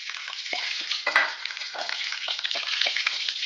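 Cloves dropped into hot oil for egg poha, making a steady, bright sizzle with faint stirring scrapes throughout, close and continuous with no talking.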